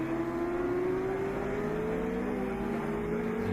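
Racing machines at a Peak Cup race roar past in a steady, loud engine drone whose pitch climbs gradually as they power down the inside, with no voices over it.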